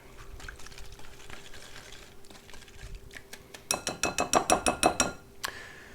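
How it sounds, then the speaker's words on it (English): A whisk stirring minced ginger and crushed garlic in a bowl, soft scraping at first and then a quick run of about a dozen sharp rhythmic clinks against the bowl, close up. "We're going to mix this up with the whisk."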